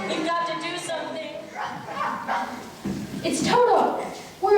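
Toto, a small dog in a Wizard of Oz stage production, gives a few quick yipping barks amid busy talk and background sound from the stage.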